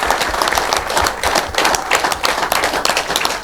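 Loud, dense applause from an audience at a Rajasthan Lalit Kala Akademi award ceremony, sustained clapping with sharp individual claps close by throughout.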